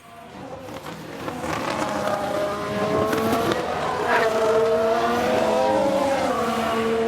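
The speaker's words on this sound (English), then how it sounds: "They're forced wide, and there we can see them slide off." Race car in an F1 Manager 1991 mod video game, engine note rising and revving as the car is forced wide and slides off track, with a brief tire squeal, loud and continuous, no speech.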